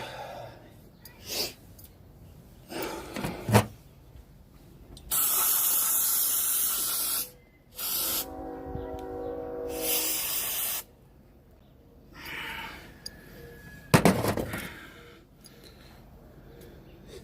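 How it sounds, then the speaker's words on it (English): Aerosol spray hisses in several bursts into a wheel hub while hubs and bearings are fitted, loud close blasts of a second or two each, separated by quiet gaps with faint handling noises. "Spray her out and wipe her down."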